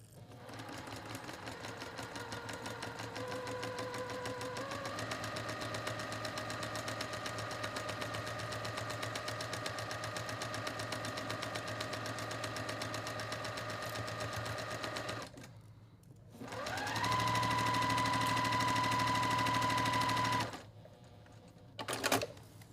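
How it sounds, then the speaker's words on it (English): A domestic sewing machine stitches a quilt block in one long steady run, stops briefly, then runs again at a faster, higher whirr before a short final burst. It sounds close and clear, with no talk. "I sew right on the line. I don't sew a shade off."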